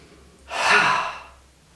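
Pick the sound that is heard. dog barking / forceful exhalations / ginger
forceful exhalations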